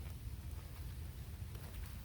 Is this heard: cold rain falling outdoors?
yes